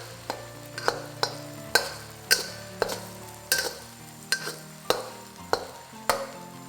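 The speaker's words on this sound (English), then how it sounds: "Fry the curry paste and the lemongrass." Curry paste and lemongrass fry in oil for a Chinese-style mixed vegetable curry, stirred with a steady run of sharp scraping strokes roughly every half second over a soft background sizzle, close and alone.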